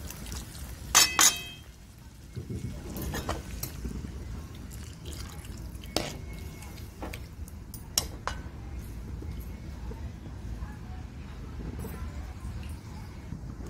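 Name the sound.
water being poured into masala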